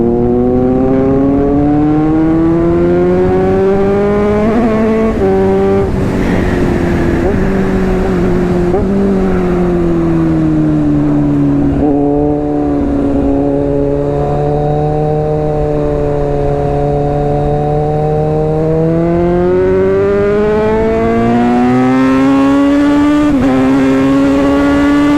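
A Kawasaki Z900 superbike screams at high speed on an open road, a loud sustained engine note rising and falling through gear changes and throttle shifts, with constant wind roar, close and continuous for the whole stretch.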